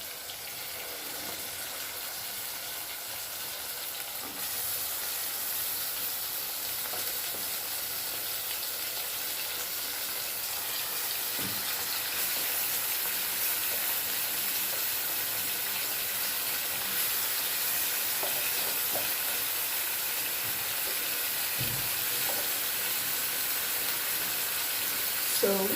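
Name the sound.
beef sizzling in a pot with onions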